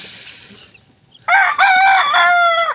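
Young chicks and grown chickens, among them a sweater-breed hen's offspring, give a loud sustained crow-like call after a short quiet spell, with faint chick peeps beforehand.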